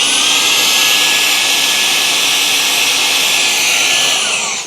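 A Shark WandVac WV201CO handheld vacuum runs with a loud, steady, high-pitched motor whine that holds constant, then begins winding down at the very end.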